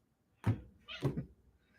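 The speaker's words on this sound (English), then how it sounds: "Yes, I hear you meowing." A house cat meows twice in quick succession, close by and clear, with quiet room tone and no other sounds around the calls.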